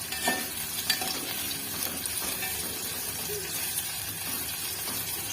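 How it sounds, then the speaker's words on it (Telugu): Boti (goat tripe) pieces frying on a medium flame until golden, giving a steady, continuous sizzle with faint stirring scrapes throughout, close and moderately loud. "మీడియం ఫ్లేమ్లో పెట్టుకొని ఇవి గోల్డ్ కలర్లోకి వచ్చే వరకు వీటిని ఫ్రై చేసుకున్నాం"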